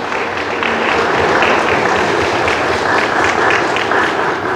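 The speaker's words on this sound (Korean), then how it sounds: "다시 한번 박수 부탁드립니다." Wedding guests applaud after the ring exchange, a dense, steady wash of many hands clapping alone and fairly loud throughout.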